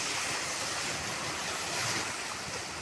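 Sea waves washing against the shore beside large rocks on a quiet coastline, a steady soft rushing surf with light wind, no voices.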